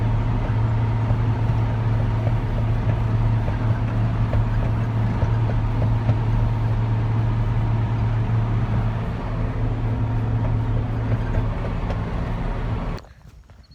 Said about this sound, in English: Here comes the baler.